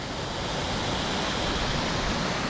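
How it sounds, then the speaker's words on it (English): Waterfall of Orange Juice Creek on the West Coast Trail, a dense continuous rushing roar of falling water, steady and fairly loud with no voices. "The waterfall in the background is Orange Juice Creek."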